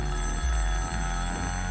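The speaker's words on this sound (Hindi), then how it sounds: "मेरे पति का फोन है।" A telephone rings steadily throughout a short indoor moment, the husband calling; a continuous electronic ring tone sounds fairly loud and alone, with no talking.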